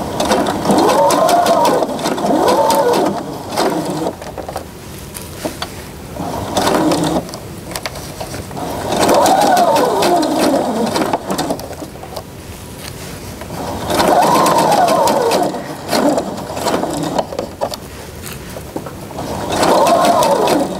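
A sewing machine stitches a lapped zipper in repeated loud bursts of several seconds each, separated by short pauses, including brief reverse stitching to lock the seam.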